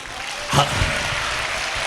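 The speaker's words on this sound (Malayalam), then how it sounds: "ഇപ്പം കൈയടിക്ക്" A few people clapping together at home, a brief burst of applause that rises and fades over a couple of seconds, close and moderately loud.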